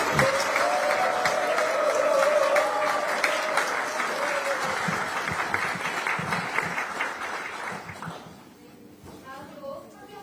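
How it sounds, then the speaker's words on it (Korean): Sustained applause from an audience at a party leadership meeting in South Jeolla, clapping for the province's lawmakers, loud and dense for about eight seconds before fading into scattered claps. "여기 계신 우리 전남 출신 국회의원님들께 박수 한번 보내주시기 바랍니다"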